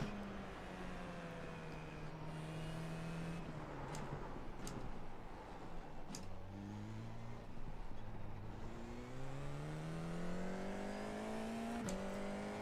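Race car engine in iRacing, leaving the pits on cold tyres, revving hard through the gears toward redline. The rising whine climbs again and again between quick shifts, loud and close, with no voices.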